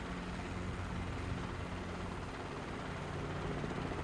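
A helicopter in Microsoft Flight Simulator with SimFX effects flies low over water, a steady dense droning rumble with a faint low hum, constant and moderately quiet from inside the cabin.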